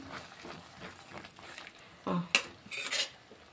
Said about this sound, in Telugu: ఇది కూడా ఒకసారి కలిపేసుకుందాం.